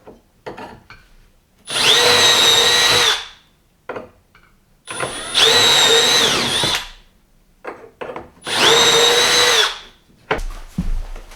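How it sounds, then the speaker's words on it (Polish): A power drill boring holes in office furniture during drawer assembly: three sustained high whining runs of about a second and a half each, separated by quieter handling clatter, loud and close. "Wiercimy w identycznej pozycji, co było z lewej strony."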